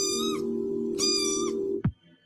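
Two drawn-out kitten meows, close and clear, over a steady background hum that ends with a short low thump.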